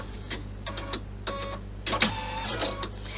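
A sewing machine stitching down the pieces of a clutch bag runs in short, close bursts of rapid mechanical whirring and clatter, pausing between runs, with a steady low hum beneath and no voices.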